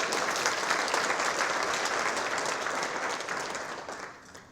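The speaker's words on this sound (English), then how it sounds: "Bradshaw another round of applause." An audience at a school athletic hall of honor induction ceremony claps in a dense, sustained round of applause that slowly fades toward the end, heard from within the room.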